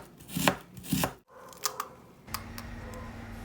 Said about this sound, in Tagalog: Ikat na din natin ang ating ginger into thin slices and then julienne into thin